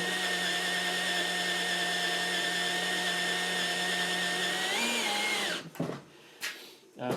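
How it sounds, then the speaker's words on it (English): A drill whines steadily at high pitch while biting into heavy metal with cutting oil, then winds down and stops, followed by a few faint clanks. "Cutting oil is made specifically for drilling, and I'm going to bear down."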